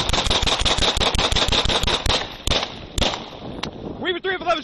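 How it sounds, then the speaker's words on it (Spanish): Sixteen recorded gunshots in under ten seconds during a police shooting, a rapid loud volley of sharp cracks followed by a few spaced shots, with a voice shouting at the end. "En las grabaciones se escuchan 16 disparos en menos de 10 segundos."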